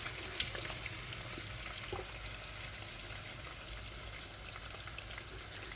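Chicken frying in oil in a large home cooking pot gives a faint, steady sizzle with small pops, close and alone without talk.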